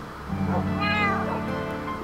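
A cat in the survival video game Frosty survival lets out a single drawn-out, rising and falling meow, close and clear over faint background sounds.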